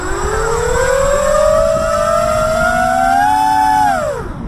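Electric motors on an RC foam MiG-29 jet whine loudly and steadily, the pitch climbing gradually and then dropping away as power is cut, close and alone.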